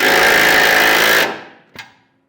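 A power tool, likely an impact wrench, runs loud and steady for over a second while snugging a fastener on a B&W fifth wheel trailer hitch in a 2016 Chevrolet Silverado bed, then cuts off, followed by one short clank.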